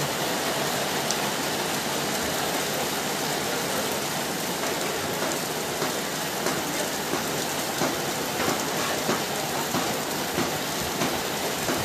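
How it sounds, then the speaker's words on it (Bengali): Heavy rain pours onto a street in front of a shop in Chaugachha, Jessore, a loud, unbroken hiss of drops with scattered sharper splashes throughout, steady and close, with no voices. "বৃষ্টির গতিবেগ ক্রমশই বাড়ছে"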